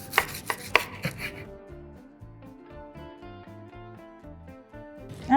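A knife chops a rolled Mysore masala dosa on a chopping board with a few sharp knocks. Background music carries on throughout.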